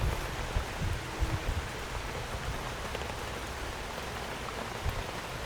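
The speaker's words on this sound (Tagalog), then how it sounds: "Napakalakas ng ulan." Heavy rain pours steadily, a dense, even wash of drops hitting surfaces close by, with a few louder splatters and no voices.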